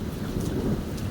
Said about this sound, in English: Got a real nice storm for it today